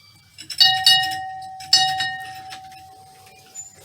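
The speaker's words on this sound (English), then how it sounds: "We got a nice little bell." A small decorative bell hanging in a homestead house rings in two or three bright strikes, each leaving a clear metallic tone that slowly fades, with no talk over it.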